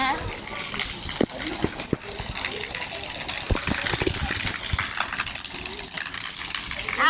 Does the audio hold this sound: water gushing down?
yes